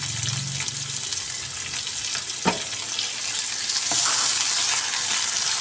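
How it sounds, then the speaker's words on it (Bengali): Chopped onion fries in a pan with black cumin, a loud steady sizzle marked by a few sharp scraping strokes as it is stirred, the hiss thickening toward the end. "তো পেঁয়াজটাকে আমি একটু ভালো করে ভেজে নেব"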